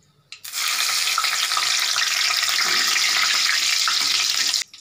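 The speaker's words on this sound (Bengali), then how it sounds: "আমি এটার মধ্যে দুটো শুকনো লঙ্কা চিড়ে দিচ্ছি।" Two torn dried red chillies drop into hot salted oil and burst into a loud, dense, hissing sizzle that holds steady for about four seconds and then cuts off, close up.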